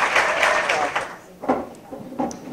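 Audience applause at a Great Women in History event, a dense burst of clapping that swells and then thins into a few scattered claps as the room settles.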